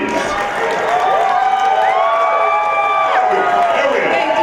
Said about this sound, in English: Audience, give it up. Round of applause, please.